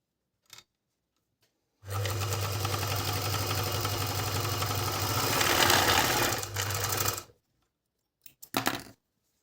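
A Jasmine FN2 four-thread overlock sewing machine stitches through two layers of fleece in one steady, loud, humming run of about five seconds, with a few small clicks and handling noises before and after.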